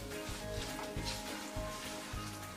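Massaman curry paste being stirred into a pan over really low heat, a soft steady sizzle with faint scraping, close and quiet.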